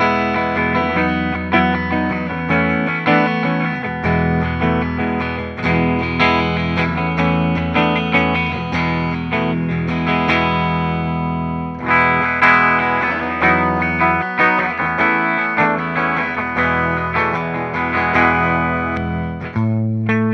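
An Epiphone SG Standard '61 electric guitar with a Maestro Vibrola is played through effects, giving a distorted, chorused tone with sustained chords and riffs that ring continuously at a strong level.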